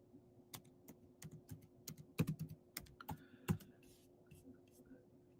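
Typing on a computer keyboard: a string of irregular, crisp key clicks with a few louder strikes, close and alone over a low steady hum.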